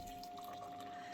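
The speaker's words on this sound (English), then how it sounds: "I've got to pour the water in" Water being poured into a cup while making tea, a steady, fairly quiet liquid trickle running continuously for the brief moment with no voices.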